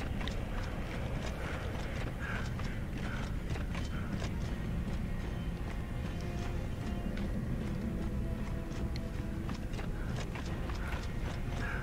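Horse hooves in the Gears of War 2 video game on Xbox 360, a steady run of clip-clop hoofbeats at moderate distance over a continuous mechanical rumble, with no talking.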